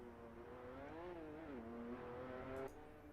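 A racing car engine in Assetto Corsa Evo drones steadily, its pitch climbing and dipping as it revs and shifts, with a brief high squeal near the end.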